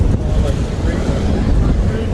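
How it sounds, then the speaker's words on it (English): Strong outdoor wind buffets the microphone with loud, low, gusty rumbling that pulses throughout, with a voice faintly mixed in. "Oh, it's so windy today."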